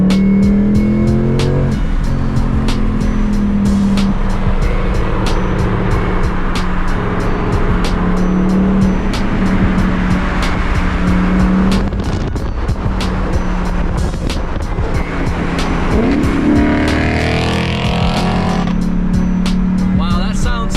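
A Ford Mustang Mach 1 with an H-pipe and otherwise stock exhaust roars loudly on a track from the cabin, rising and falling through gear changes, with tire squeal and occasional talk over the engine.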